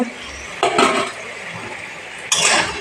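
Potatoes dropped into hot oil in a pan while cooking an egg curry, giving two short bursts of sizzling and clatter, the first near the start and the second toward the end, over a steady low background hiss.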